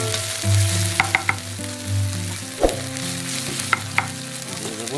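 Ginger-cumin paste sizzles steadily in a pan for mutton curry, a close, even frying hiss with a few clicks of a spoon stirring against the metal, over a low music bed with no talking.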